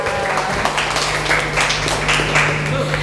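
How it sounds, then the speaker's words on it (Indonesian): Applause for a student speaker at a public speaking event at an Indonesian junior high school (SMP Muhammadiyah 5 Tulangan): steady, loud clapping from a crowd filling the room without a break, with some voices mixed in. "tepuk tangan untuk Eca"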